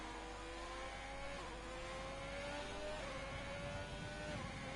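An onboard race car engine from a racing video game at the Australia round whines steadily, its pitch climbing and dropping through gear changes under a constant faint hum.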